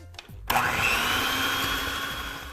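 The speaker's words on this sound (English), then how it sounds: "we're going to start by mixing together our softened butter and powdered sugar" Electric mixer beating softened butter with powdered sugar, starting abruptly after a few soft knocks and then whirring loud and steady at a constant pitch until the end.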